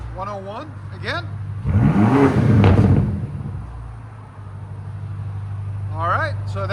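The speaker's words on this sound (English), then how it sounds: "All right, so that's what straight pipes sound like." Several short revs from a 2023 BMW XM 4.4L twin-turbo V8 on straight pipes with an X-pipe and Borla ATAK exhaust, rising to one loud burst over a constant idle rumble. Speech is heard before and after the revs.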